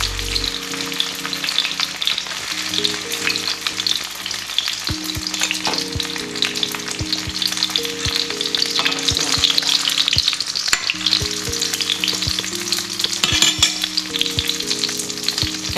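Shrimp sizzles and fries steadily in a small pan, a dense continuous crackle with occasional stirring knocks, loud and close, with no voices.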